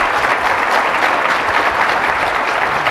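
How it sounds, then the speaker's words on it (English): Dense, steady audience applause for a panel at a conference general session, loud and continuous with no talk over it. "I want to give a round of applause to this panel that really helped out"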